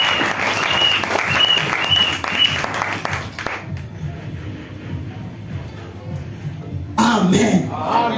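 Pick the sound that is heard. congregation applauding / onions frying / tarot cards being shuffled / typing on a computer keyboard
congregation applauding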